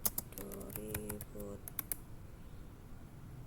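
A quick run of clicky computer keyboard keystrokes, close and distinct, lasting about two seconds before falling to a quiet room hum.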